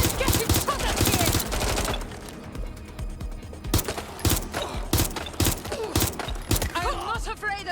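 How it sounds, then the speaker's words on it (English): Rapid bursts of automatic gunfire from a Watch Dogs Legion firefight, loud and close, repeating in clusters with short pauses between volleys, with voices calling out amid the shooting. "Someone's shooting."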